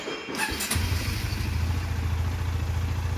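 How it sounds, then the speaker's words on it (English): Bajaj Dominar 400 motorcycle engine starting: a short starter crank, then the engine catches and settles into a steady, close, throbbing idle, no talk. "Okay, now engine is started, as you can see."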